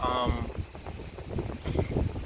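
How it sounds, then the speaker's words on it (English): Wind rumbles and buffets the microphone outdoors in low gusts, moderately loud, with faint speech-like sounds mixed in. "It's windy out, I know."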